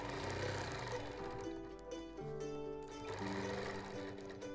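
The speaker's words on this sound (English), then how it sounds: "So I just go back and do a few more stitches." A sewing machine runs quilting stitches in straight channels with a continuous, fairly quiet mechanical whirr and rapid needle chatter. The sound holds steady for several seconds with slight swells.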